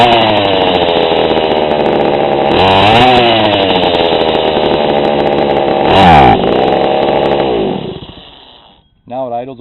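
A chainsaw engine runs loud and close during carburetor tuning, holding a steady high idle, then surging twice when the throttle is blipped before dying away, with a brief restart burst at the end.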